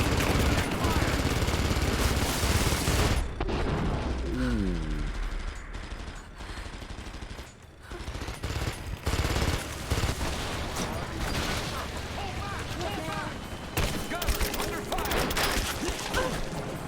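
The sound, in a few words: gunfire in the video game Rise of the Tomb Raider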